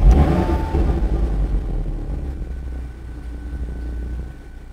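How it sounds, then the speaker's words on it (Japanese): A 2016 Audi RS3 Sportback engine turns over and catches with a loud burst, revs briefly, then settles into a lower, steady idle rumble. "ではエンジンを始動していきます。"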